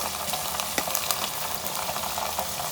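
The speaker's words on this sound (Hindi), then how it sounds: "एक से 2 मिनट तक अच्छी तरह भून लेते हैं कीमे को।" Minced keema meat frying with spices in a pan for a dhaba-style curry, a steady close sizzle with scattered crackles and stirring scrapes, no voices.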